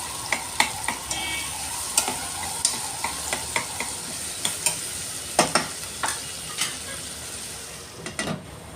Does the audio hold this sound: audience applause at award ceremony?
no